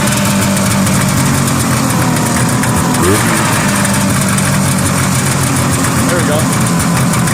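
A 1979 Arctic Cat Jag 3000 snowmobile engine idles steadily nearby, running a little lean with a lot of clutch noise, a continuous loud drone while someone speaks briefly over it.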